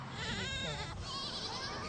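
Goats bleat loudly and close by, several wavering, overlapping calls packed into two seconds over a noisy outdoor background with faint voices.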